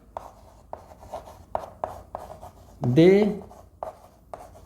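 Chalk or marker writes on a board during a grammar lesson, a series of short, evenly spaced strokes, with a teacher's voice cutting in briefly partway through.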